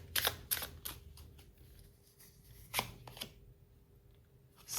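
A tarot card is drawn from the deck during a relationship reading, giving a few crisp, close papery snaps and slides, with quieter card handling between them and no voices.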